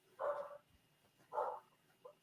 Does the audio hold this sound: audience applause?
no